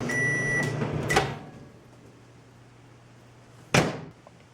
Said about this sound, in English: I'm going to microwave it to make it more liquid